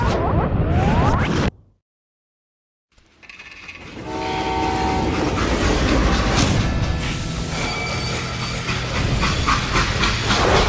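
A steam freight train in Call of Juarez: Gunslinger rumbles and hisses loudly, drops to near silence for about a second, then returns with a sustained horn-like tone over a heavy rolling roar.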